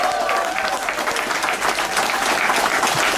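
Audience at a live concert at Juomahuone Laitinen in Riihimäki claps and cheers in sustained, dense applause, close and loud throughout.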